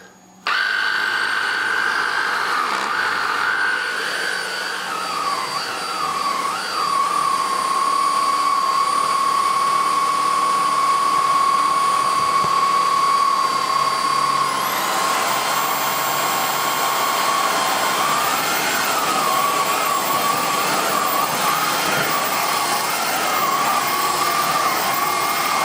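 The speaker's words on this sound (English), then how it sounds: "It's a 10-watt turbo nozzle, but it only fits straight onto the machine because obviously it's powered." Beko VRT6221P vacuum cleaner fitted with a powered 10-watt turbo nozzle, running as a loud continuous whine and roar with a wavering tone, its pitch stepping up partway through and staying steady.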